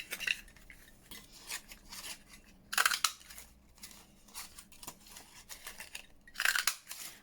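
Stamped paper for embellishments is ripped back by hand, close and quiet, with short crinkly tearing bursts and a few louder rips scattered among soft rustling and handling noises, no talk.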